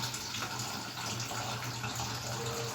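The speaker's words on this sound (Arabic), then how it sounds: "على ما الميه تتملى معايا اهو" Tap water running steadily into a cooking pot, a continuous close gushing rush with no pauses, heard alone while lentil soup is being made.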